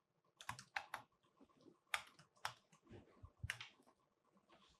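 JavaScript code is typed on a computer keyboard in short, uneven bursts of crisp, close keystrokes, with no voices.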